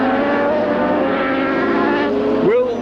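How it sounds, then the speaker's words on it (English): A four-stroke Suzuki racing motorcycle engine grunts at low revs during a 1980 Swan international series race, a loud, rough, steady note that swings in pitch near the end, with a commentator talking over it. "Watch Crosby from low revs with a grunt of the 4-stroke"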